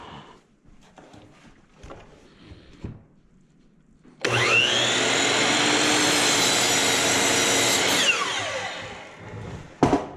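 DeWalt power saw cutting a wood board in a workshop: a few faint handling knocks, then a loud, steady high-pitched saw roar for about four seconds before it cuts off and winds down.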